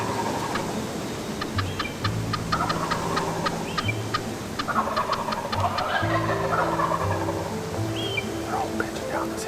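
Wild turkeys cluck and yelp near a decoy during an archery turkey hunt in Ontario, a series of short close calls over soft rustling, with quiet voices now and then.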